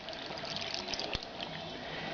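Homemade chicken broth pours steadily into a pot in a soft continuous liquid stream, close and quiet, with one small splash partway through.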